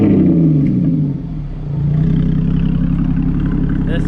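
A Volkswagen Jetta wagon with an aftermarket exhaust at a Euro car night. The engine's loud, close note sweeps down, dips briefly, then settles into a steady rumble.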